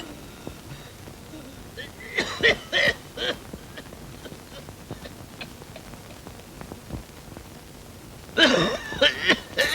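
An older man coughs in a domestic indoor scene, with scattered rough coughing bursts near the two- to three-second mark and a louder cluster toward the end, set among quiet background sounds.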